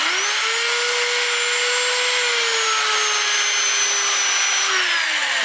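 Sanding a maple burl bowl spinning on a wood lathe: a steady, loud whirring hum with a high whine, continuous and unbroken throughout, with no voices.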